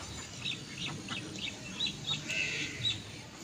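Ducks quack and chirp in an open village yard, several faint short calls scattered over a quiet outdoor background.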